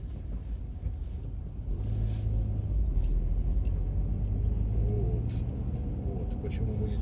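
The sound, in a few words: car driving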